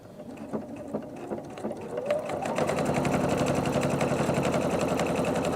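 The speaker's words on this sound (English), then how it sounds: "I've set up the machine so it will start and stop." A sewing machine stitches quilt pieces for a Dresden plate, first in a few short bursts, then running in a steady, rapid, even whir close by with low background noise.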